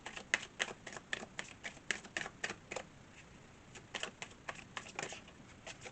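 Romance Angels oracle cards being shuffled by hand, a quick run of crisp riffling snaps in two bursts with a short pause between them, close and fairly quiet.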